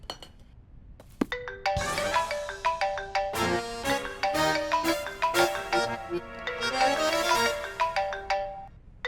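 A mobile phone ringtone plays a bright, steady melodic tune for about nine seconds, loud and continuous with no talking over it.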